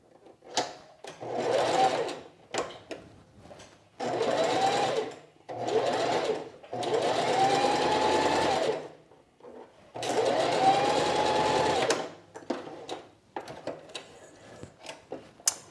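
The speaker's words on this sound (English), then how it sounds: "we're going to sew the shoulder seam here" Home sewing machine stitching the shoulder seam of a sheath dress with a half-inch seam allowance, running in five steady bursts of a few seconds each with short pauses between, close and clear.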